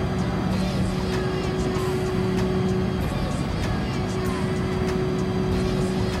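Steady engine drone of a Nissan Skyline GT-R V-Spec II R34 in Gran Turismo Sport, a constant held tone at even loudness throughout with no talk.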